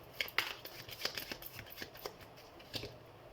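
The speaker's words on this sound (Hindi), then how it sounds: "तो सबसे पहले हम कार्ड शफल कर लेते हैं।" Tarot cards shuffled by hand, giving a close run of crisp papery riffles and snaps in uneven bursts, with no voices.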